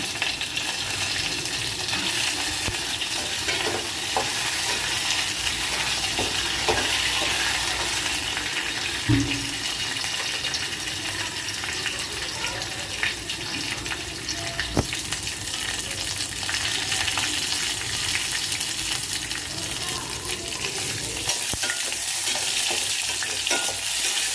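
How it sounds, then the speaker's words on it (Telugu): Amaranth leaves fry and get stirred in a hot tempering for a village-style pulusu, a steady broadband sizzle running throughout with occasional scrapes and clinks of the spoon against the pan, no talk. "తిరగమాత బాగా ఫ్రై అయ్యాక ఇంకా తోటకూర వేసుకోవాలి"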